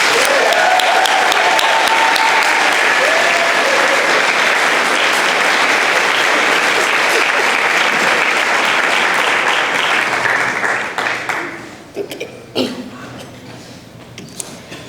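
An audience at a school senior speeches event gives sustained, loud applause to welcome a senior speaker; the clapping fades out after about eleven seconds, leaving scattered claps and room noise.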